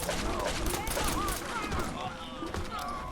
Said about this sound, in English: I'm shooting the wood.